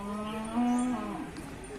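A cow moos once at a busy cattle market, a close, drawn-out low call rising and falling over a murmur of background activity.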